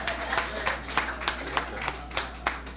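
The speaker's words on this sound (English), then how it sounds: "Give her a round of applause." A church congregation claps for a recent graduate. The claps are rhythmic and fairly close, about three to four per second, over a steady low room hum.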